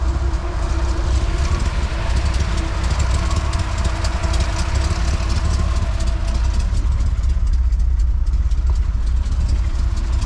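A big-block 454 V8 engine in a Honda Civic idles low and steady with a deep, rumbling drone, loud and close, holding an even tone throughout.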